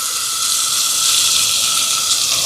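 Ground tomato paste hits a hot frying pan already holding sautéed ginger and garlic for an appam salna, giving a steady, loud, broadband sizzle that holds evenly throughout with no talk.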